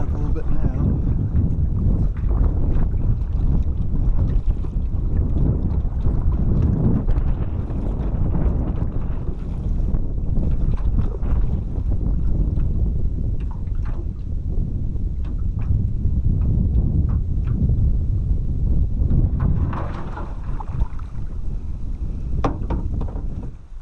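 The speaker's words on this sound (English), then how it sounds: "Wind's picking up a little bit now." Wind buffets the microphone over a lake in Maine while canoeing in fall, a steady loud rush with low rumble and faint water sounds throughout, no voices.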